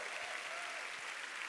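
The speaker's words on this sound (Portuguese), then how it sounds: "me ajude a honrar com uma salva de palmas ao preletor desta hora" A church conference congregation applauds to welcome pastor Robert Quintana of Gateway Church: a faint, distant, steady wash of many hands clapping with no breaks.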